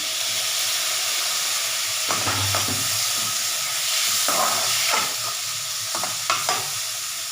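Onion and tomatoes sauté in a pan for a capsicum kootu, giving a steady close sizzle and hiss throughout, with several short scraping stirs of a spoon over it and no voices.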